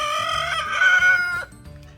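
Hen clucking in a backyard garden, a short run of loud, close, harmonic clucks and a drawn-out squawk that cut off abruptly, with no talk.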